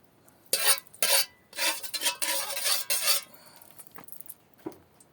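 Bamboo shoots (labong) stirred in a dry pan with no oil, giving several loud bursts of scraping and clattering utensil-on-metal sounds, then quieter scattered taps near the end.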